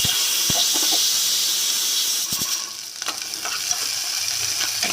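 Onions frying in a pan for a field bean curry, a loud steady sizzle and hiss with a few soft stirring clicks throughout, no talking.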